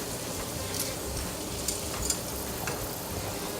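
Steady, soft sizzling of yamarita frying in hot oil over medium heat, with faint crackles and pops scattered throughout, no voices.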